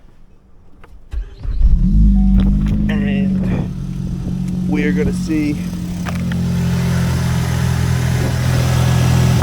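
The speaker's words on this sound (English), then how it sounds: "I am gonna go ahead and start the car" A Ford Focus ST with a mystery oil leak starts up with a brief crank and catches into a steady, loud idle that continues to the end, while someone speaks briefly over it.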